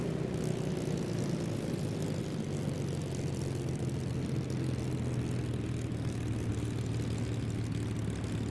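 Spitfire Mk-5b propeller engine in a flight simulator game, a steady, low droning hum with a constant tone, heard alone at moderate level throughout without talk.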